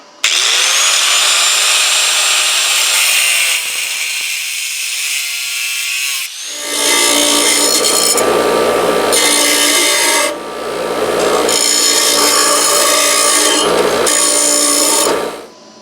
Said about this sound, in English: I just cut this off, bevel the end off so I can get a nut on there.